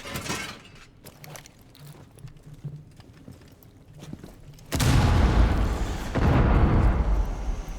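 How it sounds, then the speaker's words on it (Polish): Quiet scattered clicks and shuffling give way to a sudden loud, rumbling explosion in Rainbow Six Siege that roars on, swelling again before the end. "coś tam wybuchło."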